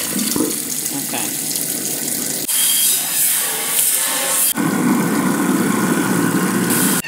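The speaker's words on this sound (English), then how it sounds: "turn on the disposal for 15 to 30 seconds" A kitchen garbage disposal runs with water pouring from the tap, a loud steady churning whir that shifts abruptly in tone twice, close by and continuous throughout with no voices.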